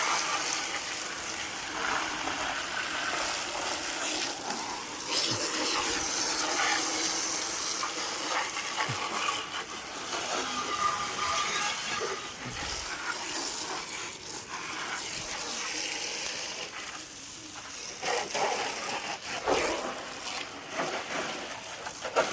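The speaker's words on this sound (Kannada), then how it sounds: "ಫಸ್ಟಿಗೆ ಇವ್ರ ಬ್ಯಾಕ್ ಸೈಡಿಗೆ ಒಂಚೂರು ರಪ್ಪ ನೀರು ಹಾರಿಸ್ಕೊಂಬ ಈಗ" Water from a hose sprays steadily onto a motorbike during a weekend wash, a continuous broadband hiss with shifting splashes, fairly close and with no talking.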